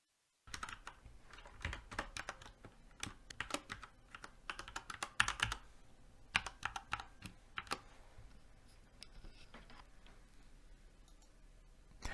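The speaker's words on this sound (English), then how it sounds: "so I don't have to keep typing in my username and password" Rapid clicking of keys on a computer keyboard while entering a username and password, in quick uneven bursts with short pauses, close and fairly quiet.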